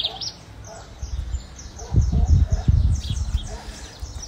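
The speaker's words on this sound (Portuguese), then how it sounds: "A passarinhada, olha." A flock of small birds chirps outdoors on a cold, bright day with thin, repeated high calls scattered throughout, while a person talks over them at close range.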